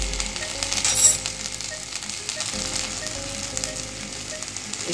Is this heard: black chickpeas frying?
yes